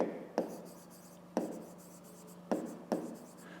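A pen writes by hand on paper during a fifth-grade maths exercise, making soft scratchy strokes with four sharp taps as it meets the page, close and quiet.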